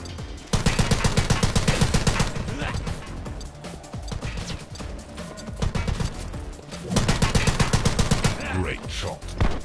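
Rapid bursts of automatic gunfire ring out in The Club, a shooting video game, loud and close in long rattling volleys separated by brief pauses, with clattering impacts mixed in.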